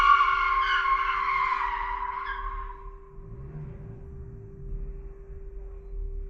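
Cars revving outside, one skidding with a rising, screeching squeal for about three seconds and then fading, leaving a low engine rumble and a steady hum in the distance.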